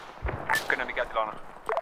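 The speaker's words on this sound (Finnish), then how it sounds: "Meitä ammutaan selästä nyt." Gunfire in the military game Arma 3 cracks in a few sharp, mid-distance shots mixed with radio chatter and talk, brief and clustered over under two seconds.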